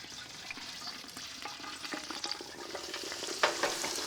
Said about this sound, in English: I'm gonna go get my turkey and we're gonna drop it in. In the peanut oil we go.